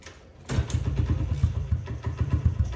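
A Honda XR 50 motorcycle, in neutral with a little choke, is kick-started and its small single-cylinder engine catches, then settles into a loud, close, steady rapid putter of idle.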